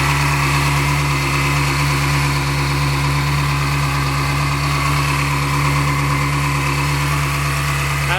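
A 2002 Ferrari 360 Spider idles just after start-up, its engine holding a loud, steady, even drone with a constant low hum and no voices.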